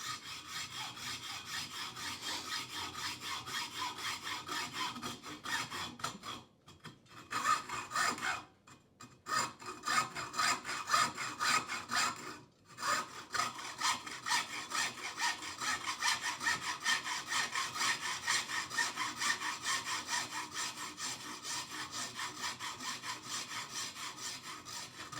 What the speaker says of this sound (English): get the blade set right there in the middle of the marker line, and then just nice, steady, even back and forth without pushing down on the actual shaft